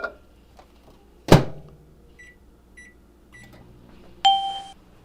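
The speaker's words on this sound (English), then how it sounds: "We're going to pop this in the microwave for 60 seconds." Microwave oven warming a bowl of rice: a thud of the door closing, soft hum, a few faint short tones, then a loud electronic beep near the end.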